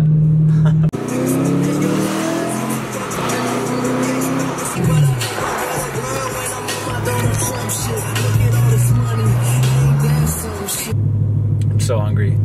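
A Corvette racing alongside a car, its engine revving and rising in pitch in several long pulls, loud and close, with a steady rumble of road noise under it and talk from inside the car.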